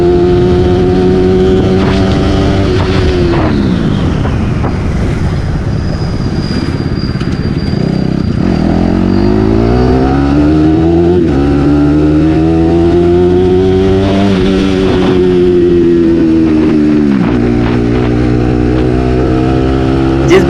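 Bajaj Pulsar NS200 motorcycle engine and exhaust on a night ride, a loud continuous drone that climbs and drops in pitch through repeated revs and gear shifts, close and without talk.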